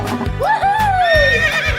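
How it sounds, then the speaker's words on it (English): A horse in a 3D animal video game gives one loud, rising-then-falling whinny that trails off, with a few soft background thumps and no talking. "Horse."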